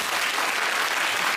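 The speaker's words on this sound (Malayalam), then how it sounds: "ഉഷാറായിട്ട് നിങ്ങളൊന്ന് കൈയടിച്ച്" An audience at a music programme claps together in steady, dense applause, loud and close throughout without any clear voices.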